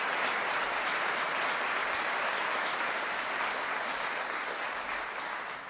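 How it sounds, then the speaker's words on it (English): Sustained applause from an audience at a Florida memorial event honoring a security guard, a dense, even wash of clapping that carries steadily throughout and tapers slightly at the end. "I hope all of us will give a big round of applause and a prayer to Danny Phillips"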